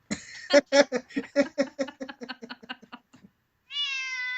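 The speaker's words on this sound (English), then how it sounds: "quiet, little Kitty, kitty." A rapid series of about a dozen short cat meows that shrink in loudness, close and clear, then a longer drawn-out meow after a brief pause.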